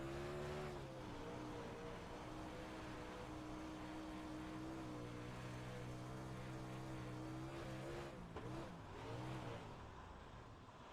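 Race car engine in the iRacing dirt racing game droning steadily with a low, sustained tone, briefly dipping and wavering near the end as it bogs down, with no talk over it.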